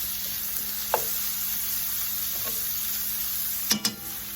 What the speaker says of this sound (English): Oil's nice and hot. Kind of sauteing onions, peppers, potatoes.